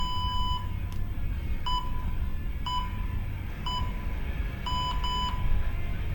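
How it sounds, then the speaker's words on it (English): Countdown timer beeping to signal the start of a round in a strength workout, a series of short high electronic beeps at roughly one-second intervals, with a double beep near the end, over a steady background rumble. "We've got our countdown timer coming back"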